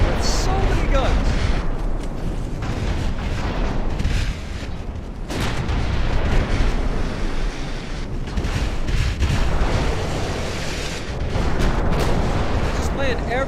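Naval guns and bursting shells in the warship battle game Ultimate Admiral Dreadnoughts, a dense, loud barrage of booming shots and rumbling impacts running continuously, with a voice talking over it.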